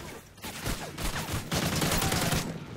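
AK rifle fire in Resistance survival mode comes as rapid overlapping bursts, dense and close, filling the short moment without talk.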